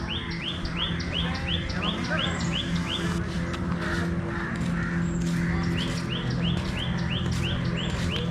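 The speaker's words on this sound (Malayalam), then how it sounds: "കിളികളുടെയൊക്കെ കളകളാ ശബ്ദങ്ങൾ." Birds chirp and crows caw at a beach park, a dense, steady chorus of repeated calls over continuous outdoor background noise.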